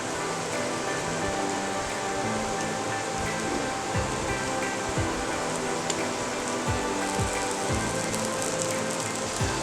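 Raw banana slices fry in a pan, giving a dense, steady sizzle that fills the whole stretch with a fine crackle and scattered pops, close and even, with no talk over it.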